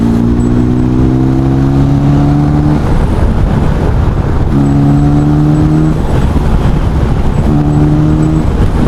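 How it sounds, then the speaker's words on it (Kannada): A motorcycle engine revs under throttle in a loud, close rising drone that climbs in pitch in three repeated pulls, with strong wind and road rush throughout on a ride toward a hilltop temple. "ಬೈ ದ ವೇ, ಥ್ರಾಟಲ್ ಕೊಟ್ಟಾಗ ನಿಮ್ಗೇನಾದರೆ ಡಿಫ್ರೆಂಟಾಗಿ ಅನಿಸ್ತಿದೆಯಾ? ಸ್ವಲ್ಪ ಸೌಂಡು ಅನಿಸ್ತಾ ಇದ್ದರೆ"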